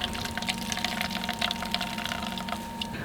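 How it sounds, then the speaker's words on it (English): Liquid splashes and trickles steadily from coconut pulp squeezed by hand through a strainer, a continuous close watery sound with a faint underlying hum. "Then I squeeze the pulp to extract all of the milk."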